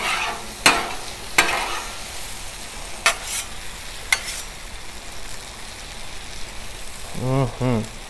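Shrimp stir-fry sizzles on a 36-inch Blackstone griddle while a spatula stirs and scrapes. Sharp metal scrapes land every second or so over a constant hiss, and a voice briefly sounds near the end.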